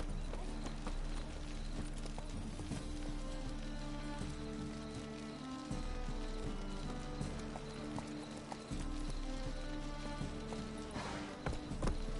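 Roach, a horse in The Witcher 3 game, galloping with steady clip-clop hoofbeats over continuous music and rain-like ambience.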